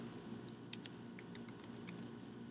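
Typing on a computer keyboard while entering a search, a quick irregular run of light key clicks close by against a low steady background hum.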